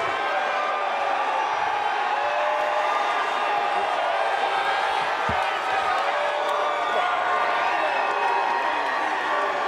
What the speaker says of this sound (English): You hear the crowd, right?